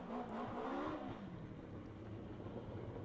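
A BMW M3 historic rally car, racing a Belgian Historic Championship round on slippery roads, gives a loud, close engine roar that rises in pitch and then settles into a steady, gritty drone.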